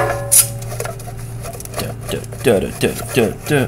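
Back screws on a Norcold (Engel) AC/DC portable refrigerator being worked loose with a tool, close squeaky grinding turns in short repeated strokes over a low steady hum, with speech mixed in.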